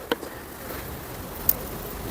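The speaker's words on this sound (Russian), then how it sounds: "Видим здесь на заставной рамке очень много пчелок полностью по медовому пояску сидят." Dense crowd of honeybees covering a hive frame along its honey band hums in a steady, even buzzing drone, with a couple of faint clicks near the start and middle.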